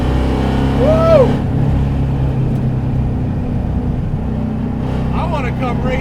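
A 1988 Mitsubishi Starion with a 515-horsepower LS V8 engine roars and revs hard, a loud, steady low rumble that surges in pitch, with brief excited voices over it.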